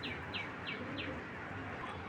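A Maxi khaki pigeon at a pigeon seller's calls in four quick, bright chirps in a row, then goes quiet over a steady low background hum.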